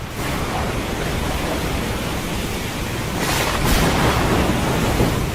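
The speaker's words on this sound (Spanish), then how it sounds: "viendo que el mar se embravecía cada vez más" Rough, stormy sea waves as a sound effect in an audio drama, a steady loud roar of surf that swells toward the end.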